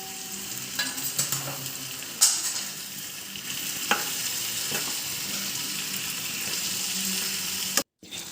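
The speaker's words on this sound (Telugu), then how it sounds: "ముందుగా కట్ చేసుకున్న టమాటా పీసులు కూడా వేసి కలుపుకుందాం" Tomato pieces fry in a pan with a continuous, fairly loud sizzle, stirred with several scrapes and knocks of a utensil, then a brief silent gap near the end before the sizzle returns.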